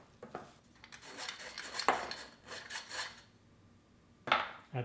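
A sturdy silicone spoon stirs thick Nutella cookie dough in a bowl, giving soft scraping and knocking strokes in uneven bursts, close and quiet with pauses between.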